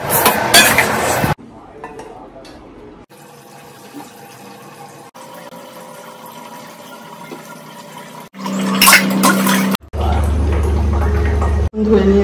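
Dishes and utensils are washed under running water, with clattering of pots and cutlery and loud bursts of tap flow, broken by quieter stretches of background noise.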